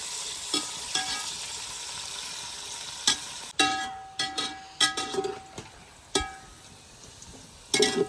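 Sliced onions fry in a hot pan for chicken biryani, a steady close sizzle broken by sharp metallic clanks and scrapes as a spatula stirs them every second or so, with no talk.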